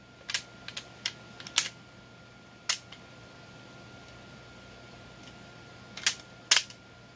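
The bolt of a WW2 rifle is worked closed in a quiet space: a scattered run of crisp metallic clicks and snaps, some in quick pairs, with one last cluster of sharp clacks near the end.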